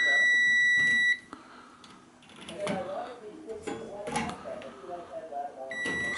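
A multimeter set to continuity, testing an electric cooker oven's switch, element and thermal cutout, gives a sustained high electronic beep, goes quiet while someone talks, then beeps again at the end.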